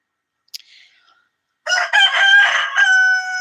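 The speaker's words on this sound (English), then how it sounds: "Rooster?" Rooster crowing close by, one long loud cock-a-doodle-doo with several rising and held notes, following a brief faint click and soft earlier sound.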